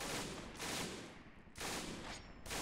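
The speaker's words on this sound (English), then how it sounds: "That's a rifle grenade." Rifle grenade and gunfire in the World War II video game Men of War Assault Squad 2, heard as two dense bursts of rapid crackling shots separated by a short lull, loud and harsh throughout.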